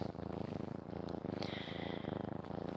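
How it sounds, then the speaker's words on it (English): Kittens purr in a close, steady, rhythmic rumble like a small motorboat, pulsing continuously with no other sounds. "You hear the purring."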